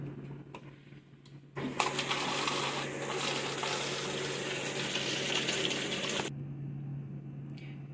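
Water runs from a tap with a newly fitted filter, a steady rushing hiss that starts abruptly, holds for about five seconds and then stops, with a low background hum throughout.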